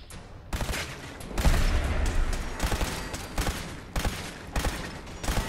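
Turrets fire repeated sharp bursts in a Fallout 4 fight, loud cracking volleys arriving in irregular clusters with brief gaps and low thuds between them.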